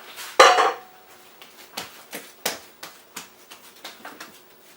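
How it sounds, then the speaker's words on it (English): Risen homemade pizza dough being punched down and worked around a bowl, starting with one loud thump and then a steady series of softer knocks and scrapes against the bowl, close up with no talking. "So what we're going to do is punch it down and run it around the bowl to get the bowl clean."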